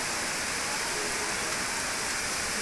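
Heavy rain pours down steadily under dense monsoon clouds, a dense, unbroken hiss of falling water with no other sound standing out.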